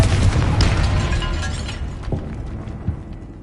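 A loud blast from the Confringo spell in Hogwarts Legacy shatters oddly stacked bones in a tomb archway, a booming burst with crumbling debris that fades over a few seconds.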